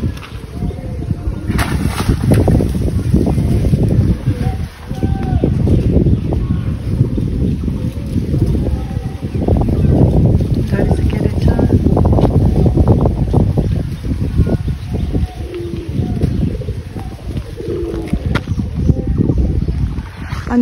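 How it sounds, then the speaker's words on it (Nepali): Wind blows steadily across a village field in Assam, buffeting the microphone with a continuous low roar and rumbling gusts. "यस्तो हावाहरू आइरहेको छ"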